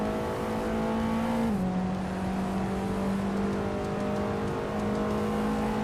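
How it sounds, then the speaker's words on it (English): A 1963 Lancia Fulvia Spider racing in a vintage-car race, its engine holding a steady loud drone with a brief pitch drop as it shifts, continuous with no one talking. "Mr. Roche is driving a 1963 Lancia Fulvia Spider."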